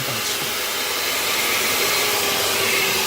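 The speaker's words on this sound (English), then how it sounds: "Only downside to this mixer is it pushes everything outward and it keeps spinning." An electric mixer with speed settings and a boost button whirs steadily while mixing peanut butter blossom cookie dough, a loud, continuous motor drone with no pauses.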